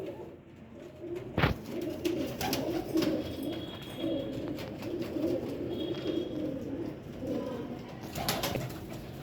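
Low, soft cooing of green pigeons repeating steadily, close by, with a sharp knock partway through and faint chirps in the background.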